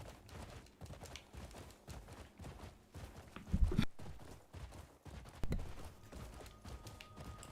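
Horse hooves clip-clop steadily while a rider travels in the video game Crimson Desert, a continuous rhythmic patter mixed with heavier thumps and game background sound.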